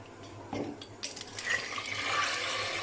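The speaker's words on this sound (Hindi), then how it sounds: "इमली का पानी हम इसमें सबसे पहले डालेंगे।" Tamarind water poured into a bowl of black chana chaat, a soft splash followed by a steady trickling pour that builds toward the end, close by with no talking.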